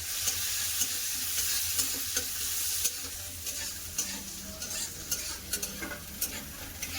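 Chopped onions and green chillies frying in oil with black cumin seeds, a steady close sizzle with repeated spatula stirring and scraping against the pan.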